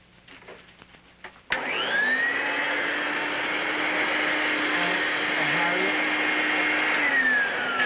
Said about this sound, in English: will you get out of here so I can finish vacuuming the rug?